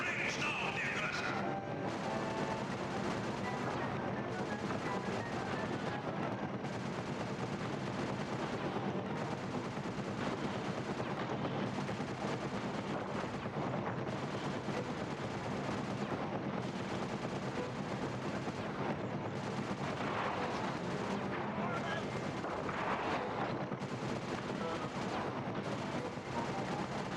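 Dense, continuous battle noise from the Sly 2 video game, with gunfire and heavy booms blending into a steady roar throughout, no single shot standing out and faint voices underneath.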